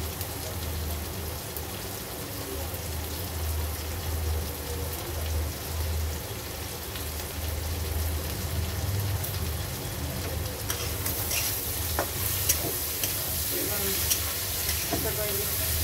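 Green chillies sizzling in a hot pan, a loud continuous frying hiss with stirring scrapes and crackles becoming more prominent later on.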